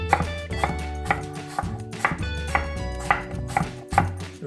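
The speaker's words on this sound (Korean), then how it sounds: "그리고 사과도 이것도 좀 도톰하게 썰어주시면 돼요" A knife chops apple and garlic into thick slices on a cutting board for winter dongchimi, a steady run of firm, close thunks at an even pace with no talking.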